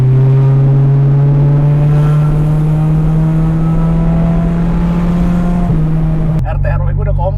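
A modified Honda Accord engine revs loud and sustained close by, its droning tone holding steady before dropping off sharply near the end.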